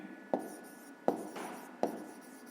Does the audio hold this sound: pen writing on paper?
yes